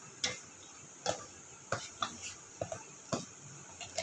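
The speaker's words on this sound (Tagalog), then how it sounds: "Haluin na natin siya." A utensil stirs a fish dish in a cooking pot, giving sharp scattered clinks and taps against the metal in an uneven rhythm, close and fairly quiet.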